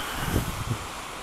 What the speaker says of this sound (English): Wind's not too bad today. We do have some light gusts